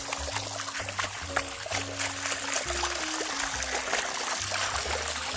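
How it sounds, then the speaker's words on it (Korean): Mountain stream water tumbling down like a small waterfall along a hiking trail, a steady close rushing and splashing wash that carries on continuously throughout. "여기 약간 폭포물처럼 내려오죠?"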